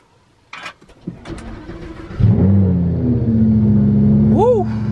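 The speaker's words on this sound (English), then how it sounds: "I have not driven my Lamborghini in like 2 weeks or something, so this startup is gonna be crazy." A Lamborghini that has sat unused for about two weeks cranks and fires up, its engine roaring loudly into a steady, rumbling idle with a rising rev blip near the end, after a few quiet seconds of small knocks and faint voices.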